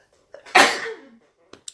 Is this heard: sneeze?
yes